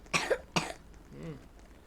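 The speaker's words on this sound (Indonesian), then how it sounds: "sekali lagi batuk guys" Two sharp, close coughs in quick succession, followed by a short, soft hum from the same voice, during a Roblox Squid Game round.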